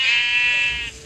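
A sheep bleats once in a survival video game, one loud drawn-out wavering bleat lasting about a second, alone with no talk over it.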